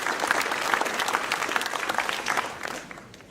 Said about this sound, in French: je voudrais qu'on les applaudisse